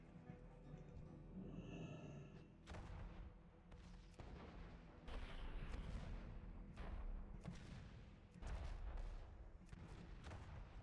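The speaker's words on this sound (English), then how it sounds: "I'm using cannon." Repeated cannon fire in World of Warcraft, a series of loud booming blasts with rumbling tails spaced every second or two, mixed with game sounds and no talk.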